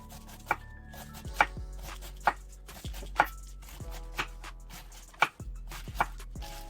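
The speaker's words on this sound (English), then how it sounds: "we're gonna cut up our onions" A knife chops onions on a cutting board with sharp, evenly spaced thuds, about one each second, close and clear over a low hum in the kitchen.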